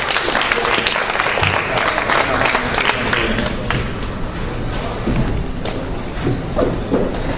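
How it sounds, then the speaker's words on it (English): Dense, loud applause from an open-mic audience at a university poetry reading, steady clapping with scattered thumps and crowd noise, lasting throughout. "Round of applause, please."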